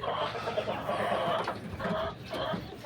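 Native Bangladeshi tiger chickens, vaccinated birds offered for sale in Uttarkhan, Uttara, Dhaka, cluck in short repeated bursts close by, a soft busy farmyard chatter with no one speaking.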